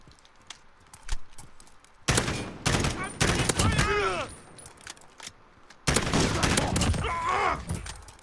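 M-16 fires in repeated bursts inside Call of Duty Modern Warfare, sharp loud gunshot clusters in two main volleys with a few isolated shots earlier, fairly close and dominant over the background.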